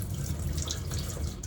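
Cold water gushing steadily from a caravan tap with air in the pipes, a loud close rush with sputtering, broadband hiss throughout.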